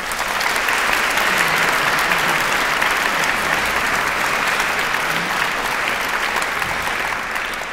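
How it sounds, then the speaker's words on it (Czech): Sustained, dense applause from a concert audience at the Concertino Praga laureates' concert, a steady wash of many hands clapping that holds evenly throughout without a break. "Já myslím, že to si zaslouží velký potlesk."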